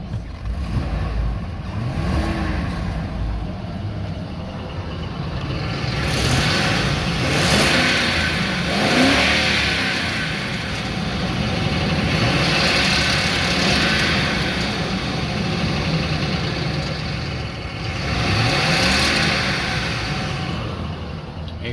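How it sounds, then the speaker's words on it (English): A 2005 Ford F150 King Ranch engine runs with a leaking exhaust manifold gasket, giving a steady idle that rises and falls in a few mild revs, heard close by. "You hear a little bit of that exhaust leak on these Fords."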